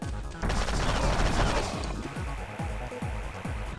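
Missiles fired at a boss in the video game AM2R, a rapid barrage of sharp blasts and crashing impacts followed by a steady series of repeated thumping shots.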